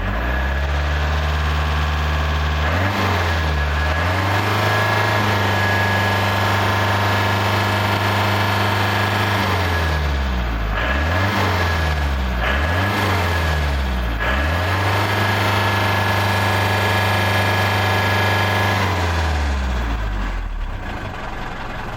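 A 1990 Iveco Daily 35-8 diesel idles loudly up close, a steady low rumble broken by several brief dips and rises in engine speed, with no voices.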